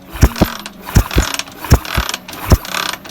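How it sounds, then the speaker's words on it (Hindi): Repeated kick-starts of a motorcycle engine being rebuilt, turned over with the spark plug and tappet cover removed to check the oil pump: six or seven sharp mechanical ratcheting clunks in an uneven rhythm, loud and close, with no voices. "आपने बग़ैर प्लग लगाए, बग़ैर जो है वो टैपेड कवर लगाया, आपने किक लगाना शुरू कर देनी है।"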